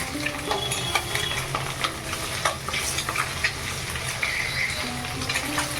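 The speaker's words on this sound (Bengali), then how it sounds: "একটু ভাজা হয়ে গেছে তুলে নিচ্ছে উঠে দিচ্ছি" Salted duck eggs fry in an open pan, a continuous close sizzle and crackle broken by light scraping and clinks of a spatula, with no talking.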